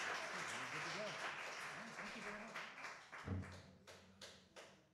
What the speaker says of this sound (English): Everyone give James Everett a round of applause.